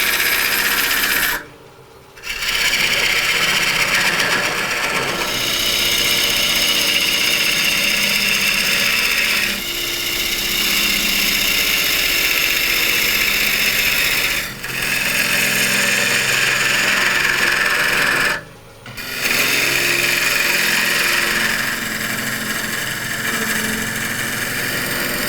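A wood lathe spins a frozen green wood bowl while its interior is being shaped, giving a loud, steady whirring drone with a gritty tool-scraping texture and two brief drops where the cut pauses.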